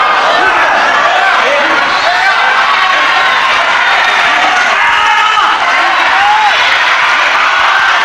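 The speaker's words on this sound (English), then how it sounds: "Crowd screaming for a straight arm lift" Dense, roaring wrestling crowd at a televised World of Sport bout, screaming and whooping continuously and loudly throughout, with shouts and cheers rising over a constant wall of noise.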